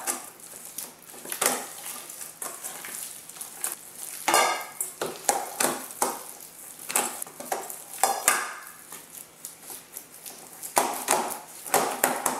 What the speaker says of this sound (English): we're going to get right in there with our fingers and mash it all up